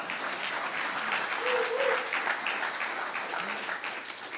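An audience at a startup pitch competition claps steadily and loudly for the full span, a dense roar of hands with no letup.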